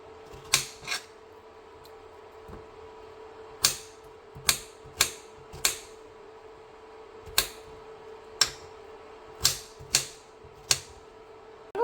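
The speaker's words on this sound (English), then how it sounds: "I'm just going to cut them in half" Fresh strawberries sliced in half with a knife on a cutting board: a string of sharp, isolated taps spaced irregularly through a quiet room.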